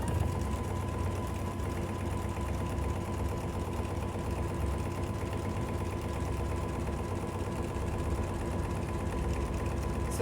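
A sewing machine hums continuously while stitching a tote bag. The motor drone is steady and fairly loud, with no breaks and no voices.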